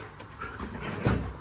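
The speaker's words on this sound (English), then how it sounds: "We've got two greyhounds with the Zoomers." Two greyhounds racing around close by, with rapid panting breaths and soft thumps of movement in a garden.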